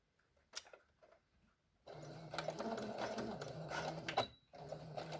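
A sewing machine stitches a backstitch on a fabric face mask. After a few quiet clicks it runs in a steady close whirring burst for about three seconds, pauses briefly, then resumes.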